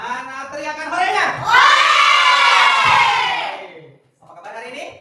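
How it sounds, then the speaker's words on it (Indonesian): Children shouting and cheering hooray together as a crowd at a morning school assembly, a loud sustained group yell that rises, holds for about two seconds, then breaks off before a shorter burst of voices. "Mana teriakan horenya?"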